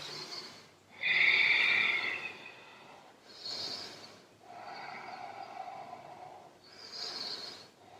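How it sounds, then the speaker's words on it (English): Slow, deep breaths during a yoga pose, each audible inhale and exhale rushing close and airy, one sharper snort-like breath near the start, with quiet gaps between them and no talking. "Let's take 4 deep breaths."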